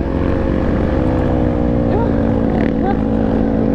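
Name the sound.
dirt bike engine riding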